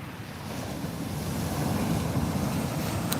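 Ocean surf rolls in a steady, broad wash with wind buffeting the microphone, a continuous rumbling roar that swells slightly. No voices.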